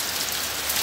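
Steady rain pours down outside a house, a dense, even hiss of drops on surfaces with no gaps, close and fairly loud over a brief moment.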